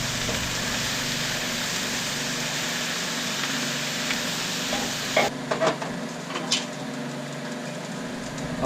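Scallops for seafood pasta fry in a pan with a dense, steady sizzle while being stirred. The hiss thins partway through, and a few soft utensil scrapes and knocks follow.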